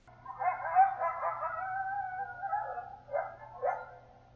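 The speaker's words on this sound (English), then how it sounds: "Yelping can be a celebration or a criticism among a small group, often heard during play among pups" A single coyote yelps and wavers in a rising, quavering cry, followed by a couple of short sharp yips, fairly clear against a quiet background.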